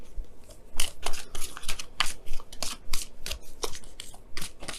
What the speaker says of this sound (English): Let me go ahead and pull you guys your wisdom of the oracle for the week.